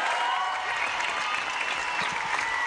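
A concert audience at a tour show claps and cheers for the musicians, artists and dancers, a dense continuous wash of applause with scattered shouts throughout.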